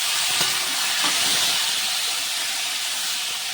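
Chopped tomato dropped into a pan of lightly fried chicken with onion, chillies and ginger, giving a loud, steady sizzling hiss that runs throughout, with a few faint clinks near the start.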